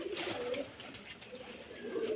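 Giribaz pigeons coo close by in short, low, throaty bursts, a couple of rolling calls rising and falling, with little else around them.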